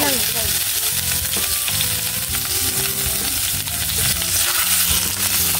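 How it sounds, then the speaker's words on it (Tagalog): Pork sizzling steadily in hot cooking oil for pork humba, a dense, constant crackle with bursts of spatter and occasional stirring clatter, loud and close throughout with no talk. "Lagyan muna natin ng mantika po. Ayan. Ayan, prituin na po natin mga idol."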